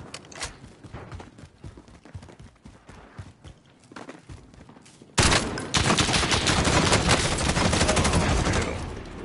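Gunfire in a Warzone battle: scattered shots and rapid bursts crackle at first, then give way to a sustained, loud stream of automatic fire.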